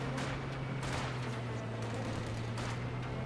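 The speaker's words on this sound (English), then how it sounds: "Sending bolt action rifle fire" Bolt-action rifle shots crack out in scattered bursts over a steady low engine hum during a Company of Heroes 2 battle, with other gunfire mixed into the din.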